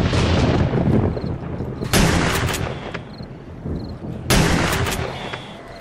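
Homemade shotgun blasts in the zombie survival game 7 Days To Die during a day 14 horde, two heavy booming shots a couple of seconds apart over a constant rumbling background.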